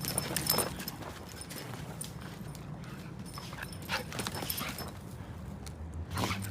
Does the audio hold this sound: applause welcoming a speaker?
no